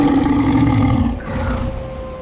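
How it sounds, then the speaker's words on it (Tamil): A lion lets out a loud, sustained roar that rumbles low and close for about two seconds, alone with no talking over it. "சிங்கம் பயங்கரமா கர்ஜிக்குதே."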